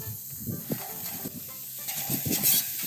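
Big 7-ounce burgers sizzle on a grill, a soft steady hiss with scattered crackles and pops, moderately close and with no talk over it.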